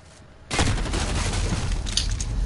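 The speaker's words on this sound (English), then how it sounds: "Precision airstrike." Precision airstrike in a war video game, a sudden heavy burst of explosions and gunfire-like blasts that sustains as a loud rumbling barrage.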